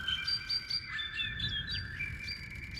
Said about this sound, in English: Have you ever wondered, dear Pedro, why a bird sings?